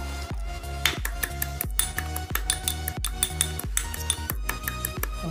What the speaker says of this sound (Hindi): अब लहसुन को भी कूट दे रहा हूँ।